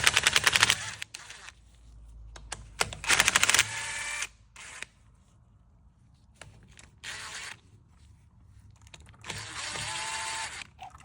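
An impact gun removing two 8mm bolts on a 2023 Honda CRF450 motorcycle during an oil change, firing in several short, loud rattling bursts separated by pauses, with quieter clicks and handling noises between them.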